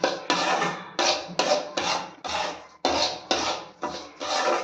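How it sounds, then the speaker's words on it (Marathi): Semolina roasting in ghee in a pan, stirred with a spoon: a steady series of about nine rhythmic scraping strokes, close and clear, with no talk. "रवा असा बघा लालसर होईपर्यंत भाजून घ्यायचा."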